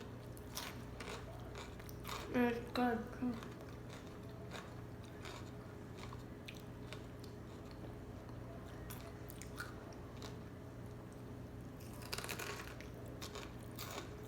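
Crisp crunching bites and chewing of a Takis-stuffed jalapeño come close up in a few short bursts, with a brief spoken remark and quiet background hum.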